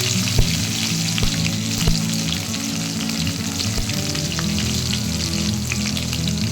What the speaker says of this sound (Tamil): எண்ணெய் சூடானதும் கடுகு, உளுந்தம்பருப்பு, கடலைப்பருப்பு, சீரகத்தை நல்லா பொரிய விட்டு